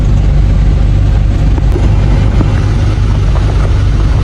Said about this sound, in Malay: Memang enjin semua elok.